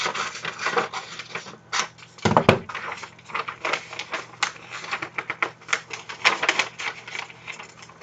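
Excess paper being trimmed from a pattern, with a run of brisk irregular crisp snips and crinkles through most of the clip, close and fairly loud with no talking.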